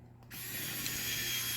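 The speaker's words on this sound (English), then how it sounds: "This is a dang good little drill too" A small power drill spins up after a short quiet moment and keeps running with a steady, fairly faint whirring whine while work is done on an Axial SCX10.3 CJ7 RC crawler.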